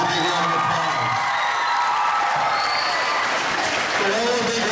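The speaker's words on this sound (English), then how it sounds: "Let's get a big round of applause." Loud, sustained applause with scattered cheers and whoops from a school audience honoring veterans at a junior high Veterans Day ceremony, steady throughout with voices mixed in.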